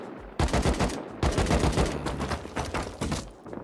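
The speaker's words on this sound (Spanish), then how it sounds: "están con un M2 ahí encima de la torre disparando" An M2 heavy machine gun fires from atop a tower in a shooter game, in several loud bursts of rapid rounds separated by short pauses.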